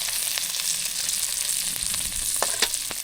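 Oil sizzles steadily in a pan, leftover from frying bananas and eggs, with a dense hiss broken by occasional pops and crackles, close and fairly loud with no talking.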